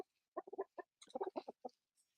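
Large, heavy chickens in a backyard coop clucking in short bursts, a quick run of soft, close clucks followed by a second cluster, then one faint final cluck.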